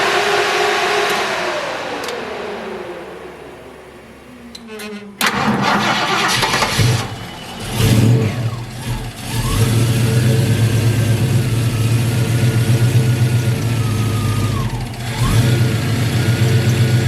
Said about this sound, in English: So I'm going to do a cold start on the vehicle and let you listen to it.